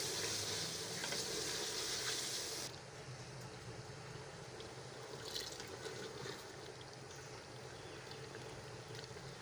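Mutton tripe (ojri) frying on a stove gives a steady, dense sizzle, loudest and brightest for the first few seconds before settling into a softer continuous hiss with occasional pops.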